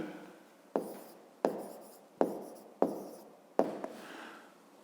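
Writing on a board during a fifth-grade maths exercise: five sharp, evenly spaced strokes, each a crisp tap that fades quickly, close and fairly quiet with no talk.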